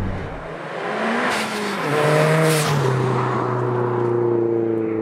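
A turbocharged 480bhp Seat Leon Cupra R with a big turbo accelerates hard, its engine note rising then dropping at a gear change before climbing again, loud and close.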